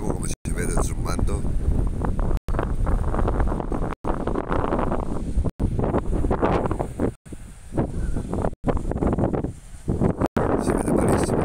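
Wind roars continuously against the microphone on a beach at Corralejo, Fuerteventura, Canary Islands, in a dense, blustery rush, with brief dropouts through the recording.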